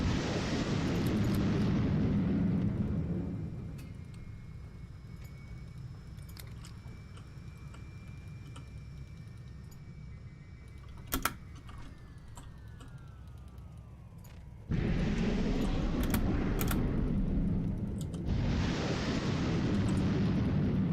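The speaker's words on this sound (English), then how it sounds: "We're gonna fire missiles at him anyway" Missiles launched at an enemy strike group in the naval combat game Highfleet: loud rushing bursts open and close the stretch, around a quieter middle with a faint sweeping whine and a sharp crack.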